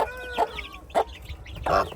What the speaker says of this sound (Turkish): Ha bunlar da civcivler. Yeni çıktılar ama 15 günlükler iyi büyüdüler.